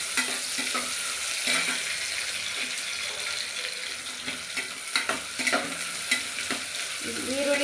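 Chopped onions dropped into a hot pot for chicken biryani fry with a steady, loud sizzle, broken by intermittent scraping and clinking stir strokes; no voices.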